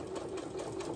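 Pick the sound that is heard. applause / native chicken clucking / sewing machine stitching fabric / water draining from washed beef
sewing machine stitching fabric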